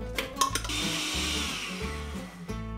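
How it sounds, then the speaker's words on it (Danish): A cheap, poor-quality blender whirs loudly and steadily as it blends avocado cream in a home kitchen, its motor pitch dipping and rising unevenly as it labours, with brief clicks and knocks at the start and end. "Det er en elendig blender, det her. Vi er lige nødt til at hjælpe den lidt."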